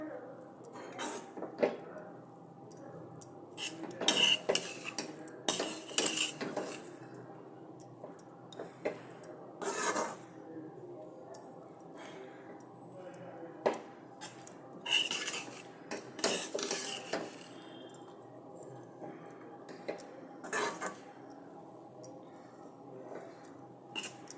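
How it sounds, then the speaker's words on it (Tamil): Raw mango rice is stirred and mixed in a vessel, with repeated scraping and clinking of a metal spoon against the pot in irregular bursts, close and moderately loud, with occasional soft speech nearby. "இப்போ நல்லா இந்த மாங்காயும் ரைஸும் நல்லா ஒன்றா கலந்து சேர்த்து இது பண்ணணும் அது மாதிரி கிளறி விடணும்"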